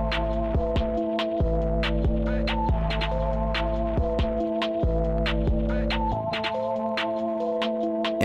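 An electric hair clipper buzzes steadily and close during a low taper haircut on wavy hair, with a constant tonal hum, brief pitch shifts as the blade is adjusted, and light clicks and snips over it.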